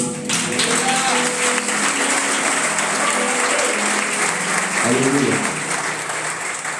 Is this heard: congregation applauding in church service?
yes